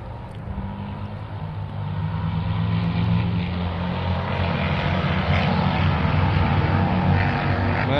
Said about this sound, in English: those are loud motorcycles